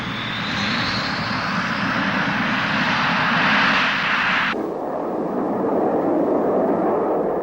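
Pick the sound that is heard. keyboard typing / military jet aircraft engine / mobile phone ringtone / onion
military jet aircraft engine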